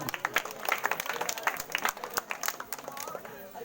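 An audience at a student award ceremony breaks into steady, lively clapping, a dense crowd applause at moderate distance that continues throughout and fades slightly toward the end.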